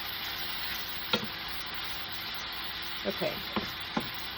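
Baby bella mushrooms and onions sauté over medium-high heat in a pan, giving a steady, fairly quiet sizzle with a few soft utensil taps and a brief spoken word over it.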